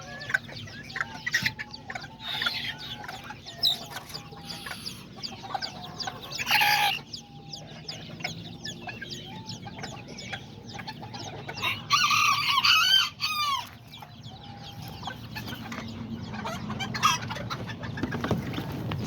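Chickens cluck steadily in the background while a rooster crows a few times, one louder burst near the middle, with occasional wing flaps.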